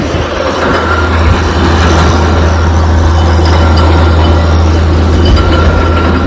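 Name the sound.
borewell drilling rig running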